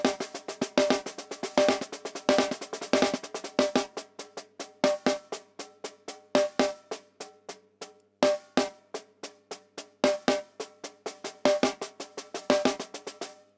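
Six-stroke rudiment played on a drum kit as a Seben-style fill: repeated crisp strike groups, each led by two louder accented notes and followed by softer taps, close and clear with no talking.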